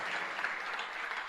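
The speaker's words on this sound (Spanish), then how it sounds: "Si va a aplaudir a Jesús, hágalo con fuerza" A congregation at a Christian sermon applauds for Jesus, a steady dense wash of many hands clapping at once, fairly loud and continuous with no voices standing out.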